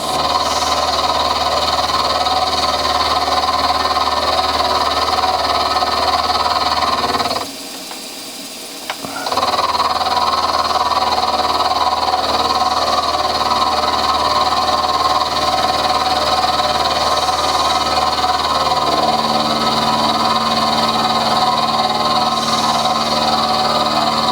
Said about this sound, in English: One more cut the other way will do us.